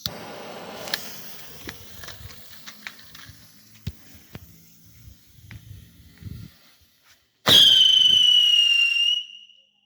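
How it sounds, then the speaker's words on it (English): Scattered crackling and small pops, then a Scream King firework launches with a loud, piercing scream that holds a high whistling pitch for about two seconds before stopping. "they are loud, and they do scream very loud and go quite high"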